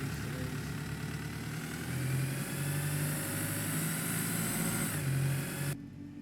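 A Wright Streetlite bus engine runs in a driving video game, a steady mid-to-low diesel rumble that swells as it pulls away and holds through a long, even drone before cutting off abruptly.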